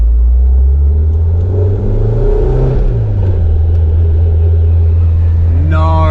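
A Nissan car with a KA24DE engine swap, rumbling loud and close on a test drive, its engine note rising and falling steadily throughout.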